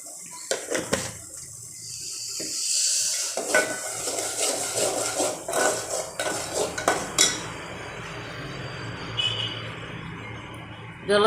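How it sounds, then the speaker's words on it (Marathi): Masala for Nashik misal sautés in oil while a spoon stirs and clanks against the pan, with scraping and metal knocks over a low sizzle and a bit of running water, and a voice now and then. "ज्याला तेल सुटूपर्यंत परतू द्या।"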